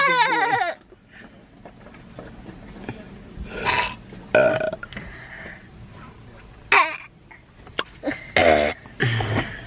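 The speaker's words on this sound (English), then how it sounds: "You gonna burp?" A person lets out several loud, drawn-out burps in a home, spaced across the stretch with quieter gaps and brief throat sounds between them, plus a short voice near the start.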